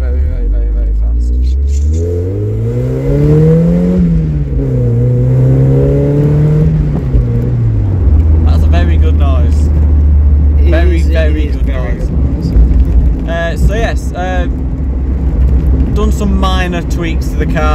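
A Mazda MX-5 Mk1 pulls away with its engine revving upward through rising pitch, loud and close, then settles into a steady drone while someone talks over it.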